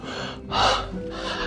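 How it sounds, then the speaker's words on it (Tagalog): A hiker pants heavily in bright sun on Mt Ayaas, two or three loud, close, breathy gasping inhalations and exhalations in quick succession. "Grabe yung hingal, ate."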